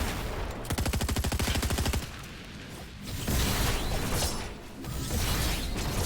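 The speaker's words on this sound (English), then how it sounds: "You shoot that gas can." Gunfire in Fortnite as a player shoots a gas can during a close-range fight in a snowy area, with a dense two-second burst of rapid shots followed by rougher crackling and mechanical clatter, no talk.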